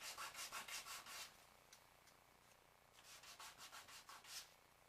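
Sandpaper rubs along the edge of a kit part in quick rhythmic strokes, a burst of back-and-forth scrapes, a pause with a few single rubs, then another run of strokes, close and quiet.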